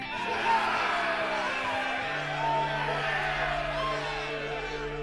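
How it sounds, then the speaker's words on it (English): Game crowd from 428: Shibuya Scramble, Susumu's people cheering, a steady dense wash of voices and whoops holding across the clip at moderate level. "Susumu's people let out a hearty cheer."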